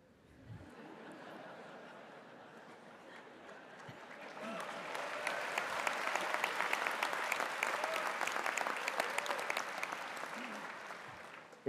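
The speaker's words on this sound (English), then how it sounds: "Is that the parents clapping?" Parents applaud at a George Brown College convocation in 2018, a sustained crowd ovation that swells around the midpoint and stays full, with scattered laughter mixed in.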